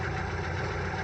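A Toyota car with an MMT semi-automatic gearbox idles in a brief, steady, continuous engine rumble, close and unbroken with no talk.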